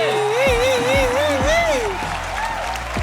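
Studio audience applause breaks out on a Chinese televised band competition show, a dense wash of clapping held for about three seconds under a raised voice, then easing slightly.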